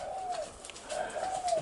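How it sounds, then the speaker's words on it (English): Princess parrots give soft, brief calls in a quiet room, a few gentle warbling notes in a short burst. "Beautiful pets, Princess Parrots."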